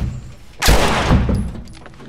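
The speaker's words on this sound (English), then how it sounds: "Oh no, I have to shoot." A single loud, close gunshot fired in the video game The Last of Us, a sharp blast with a short rumbling decay.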